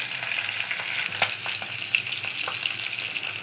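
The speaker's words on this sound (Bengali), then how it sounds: "আজ ট্যাংরা মাছগুলো ভাজি করে রান্না করব। তাই মাছগুলো আগে ভেজে নিচ্ছি।" Tengra fish sizzle and crackle steadily in hot oil while being fried with salt and turmeric, a close, continuous frying hiss with occasional stirring sounds.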